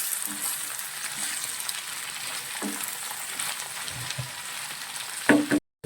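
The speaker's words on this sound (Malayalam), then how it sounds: "സവോളയും ഇഞ്ചി വെളുത്തുള്ളിയും കൂടെ നമുക്ക് ഇതിലേക്ക് ഇട്ട് കൊടുക്കാം. ഒന്ന് ഇളക്കി യോജിപ്പിക്കുക." Onion, green chilli, ginger and garlic sauté in a pan for an ivy gourd stir-fry, giving a steady moderate sizzle with a few soft stirring scrapes and a sharper clatter just before it cuts off.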